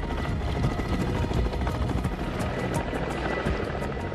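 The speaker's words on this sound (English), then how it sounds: "a Chinese helicopter swooped in for a dramatic rescue" Loud, steady whirring rotor noise of a Chinese helicopter in Antarctica fills the whole stretch, close and continuous with no voices.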